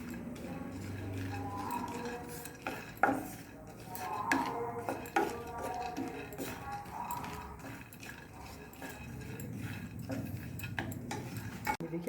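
Dry fruits roast in a little ghee in a pan on the stove, with continuous scraping, clinking and stirring of a utensil against the metal pan throughout.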